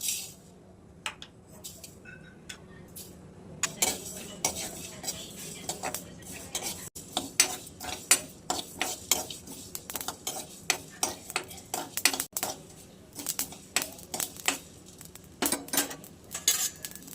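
Dry-roasting poppy seeds, star anise, pepper, cloves and cumin in a pan: a utensil scrapes and taps against the metal in irregular clinks and rattles, close and fairly quiet, with a faint sizzle and no talk.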